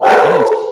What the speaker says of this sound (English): It's a beagle